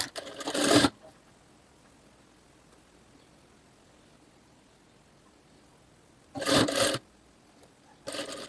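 Sewing machine stitching a seam on a summer blouse, two short rapid whirring bursts separated by a long quiet pause, then a third burst starting at the end.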